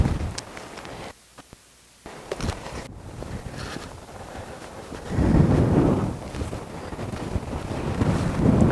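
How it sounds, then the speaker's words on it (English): Strong wind buffets the microphone at the top of an abandoned Oklahoma gold mine, with rough gusts that drop out briefly, return, then swell into a heavier roar toward the end. "it is very windy up here"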